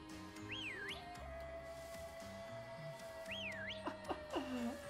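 A cheerful whistle in Pokemon Sword gives two rising-and-falling tonal sweeps over steady game music, followed by a few short chirpy notes near the end.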